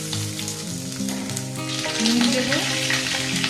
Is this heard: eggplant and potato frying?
yes